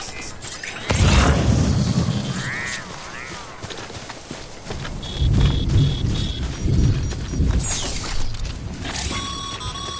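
Timefall rain and rolling thunder from the video game Death Stranding, a steady wash of rain with heavy low rumbles swelling and fading across the scene alongside mechanical game sounds, with no voices.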